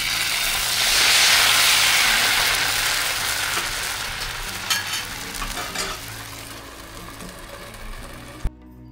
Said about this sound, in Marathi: हे जे घावणे तव्यावरती शिजवले जात आहेत, त्याच्यामध्ये तवस म्हणजेच काकडी घातलेली आहे